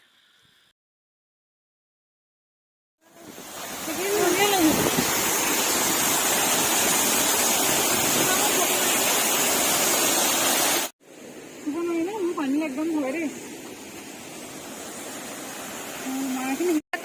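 A loud, steady rush of flowing river water near Cherrapunji fills most of the clip after a quiet start, with a voice speaking briefly over it.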